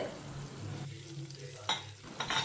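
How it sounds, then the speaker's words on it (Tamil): Beans and dal usili mixture is sautéed in oil in a pan, with a brief sizzle and a couple of sharp utensil scrapes against the pan. "இது எல்லாத்தையும் சேர்த்து வதக்கிவிடலாம்"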